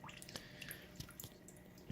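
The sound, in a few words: water dripper dripping in a paludarium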